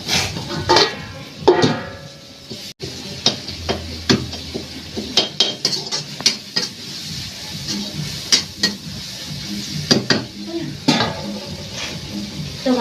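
Tomatoes sizzle in a pan on a village kitchen stove while a spoon stirs them, with repeated scraping clinks and soft frying hiss throughout, close and fairly loud.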